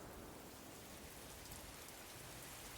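Steady rain falls at night under a pine tree, a dense, even hiss of drops on surfaces that holds constant throughout without any voices.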